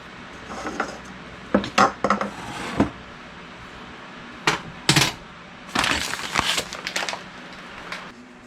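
Keto flour blend dry ingredients are stirred in a bowl, with a run of clinks and scrapes of utensil against the bowl, irregular sharp taps between quieter stretches, close by.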